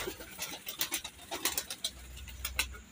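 Pigeons coo at a home loft, with soft repeated low coos and some wing flutters, close and fairly quiet with no voices.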